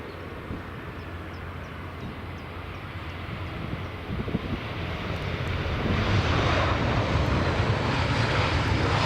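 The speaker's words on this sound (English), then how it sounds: "EasyJet A320 or A319, I think. A320. Just coming into land now." EasyJet Airbus A319 coming in to land at Edinburgh Airport, its engine roar starting distant and swelling steadily louder as it nears, with no talk.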